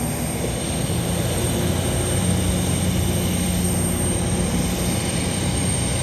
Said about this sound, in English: just starting to take off. It's coming down the runway.